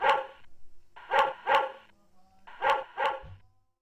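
A dog barks in three quick bursts of two or three sharp barks each, with short pauses between them, loud and close, with no talk.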